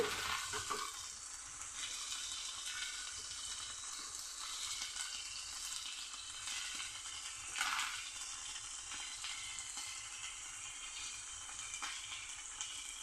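Snake gourd vegetables fry in a pan under a steady, fairly faint sizzle and hiss, with occasional soft scrapes of a spatula turning them, close and continuous, no voices.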